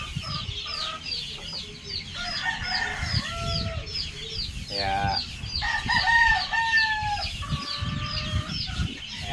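Chickens clucking and squawking close by, with a rooster crowing in the mix, a busy barnyard flock calling over steady background noise.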